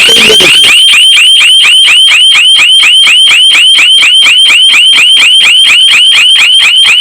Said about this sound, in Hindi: इस तरीके से बहुत जोर से सायरन बजने लगेगा। ये एक डमी सायरन है, जो छोटा सायरन है।